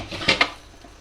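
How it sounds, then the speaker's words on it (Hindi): A metal pressure cooker lid is set down and locked shut while cooking beef stew, giving two quick, sharp clanks close by, followed by quiet. "अब मैं ये कुकर का ढक्कन बंद कर दूंगी।"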